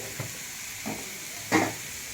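Onions sautéing in a pan for egg masala bonda: a soft, low sizzle under three brief stirring scrapes, the last one loudest.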